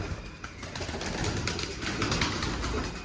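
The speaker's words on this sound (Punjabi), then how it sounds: "ਦੇਖੋ ਕਬੂਤਰ" Pigeons coo softly amid a busy background of rustling and low rumble, their calls blending into a continuous wash of noise.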